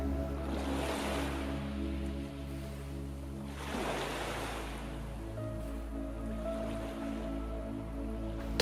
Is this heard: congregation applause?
no